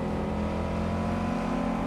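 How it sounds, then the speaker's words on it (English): A car engine roars steadily as a vehicle races up from behind in the Cyberpunk 2077 video game, a continuous close motor drone with no talk. "I heard a car racing up behind"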